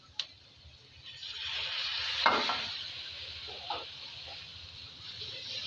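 Green chilies and tomatoes frying in a pan, a soft steady sizzle with a few light clinks of stirring, faint and close.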